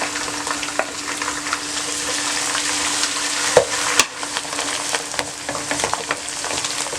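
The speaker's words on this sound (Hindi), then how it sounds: "चंद सेकंड के लिए हमने लहसुन डालकर इसको फ्राई किया।" Garlic, onion and ginger frying in a karahi for dal, giving a steady, close sizzle with scattered crackles and a couple of louder pops or stirring knocks.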